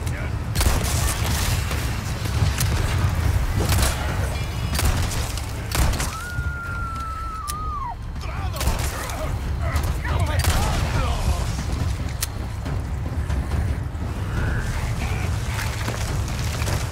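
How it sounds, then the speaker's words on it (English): Rocket launcher blasts in Resident Evil 4 Remake, a dense run of booming explosions and rumbling impacts throughout, with a brief whistling tone partway through and a voice talking over the noise at times. "Rocket launcher, bro."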